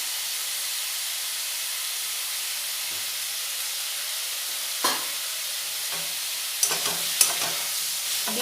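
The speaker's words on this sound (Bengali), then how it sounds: "এই মাংসটা 5 মিনিট আমি ভালো করে ভেজে নেব" Chicken pieces fry in a pan with salt and turmeric, giving a steady close sizzle and hiss broken by a few sharp scraping stirs; no one speaks.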